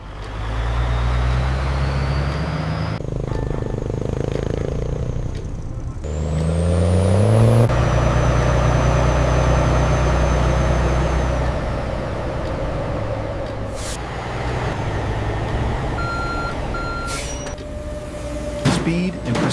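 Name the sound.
refrigerated trucks moving harvested cassava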